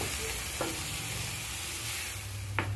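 Fenugreek greens stirred and fried in oil in a wok, with a steady sizzle and a few spatula scrapes, alone and close.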